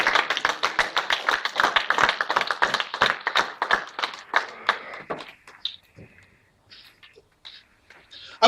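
Congregation in church applauding in a fast, dense burst of clapping for about five seconds, then thinning to a few scattered claps and taps.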